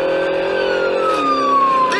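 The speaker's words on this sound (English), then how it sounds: "That's actually a real police car." A police car siren in a movie scene gives a loud, wavering electronic wail that sweeps downward in pitch over a continuous vehicle hum, close and with no talking over it.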